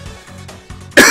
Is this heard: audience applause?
no